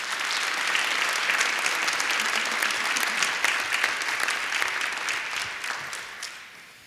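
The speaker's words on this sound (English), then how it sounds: "One more round of applause for our panelists." A school auditorium audience at a county opioid panel discussion gives the panelists a loud, sustained round of applause, many hands clapping close and full before tapering off at the end.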